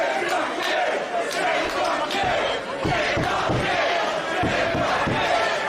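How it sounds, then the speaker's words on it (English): Packed wrestling crowd at a Nick Gage versus Ricky Shane Page match roars and shouts continuously, a dense wall of close cheering and yelling with rhythmic chant-like bursts throughout. "Listen to the crowd,"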